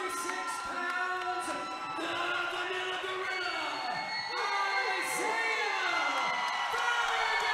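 Crowd at an amateur MMA fight cheering and whooping continuously, a dense wash of shouts and yells filling the venue while a commentator talks over it.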